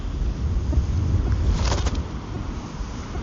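Strong wind of about 40 km/h gusting across an outdoor microphone while a fishing drone flies, a steady low roar with buffeting throughout and a brief brighter rush midway.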